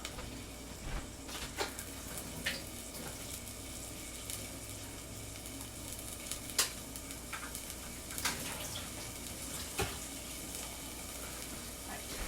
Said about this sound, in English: I'm gonna just put the green onions in there right now and let that kind of cook up